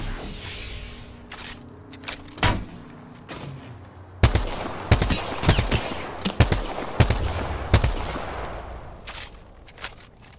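Video game gunfire rings out in sharp, loud bursts, with automatic rattles and single shots spaced irregularly, a few distant ones early and then heavy close volleys echoing.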